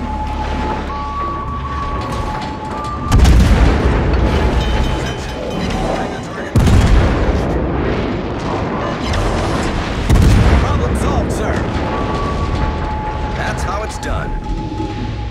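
Three heavy booming broadsides from the guns of the cruiser USS Des Moines in a naval battle game, each a loud deep blast spaced a few seconds apart, with voices talking throughout.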